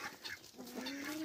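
A hen on a farm clucking in short, repeated bursts close by, moderately loud, with a few drawn-out tonal notes, and no talk over it.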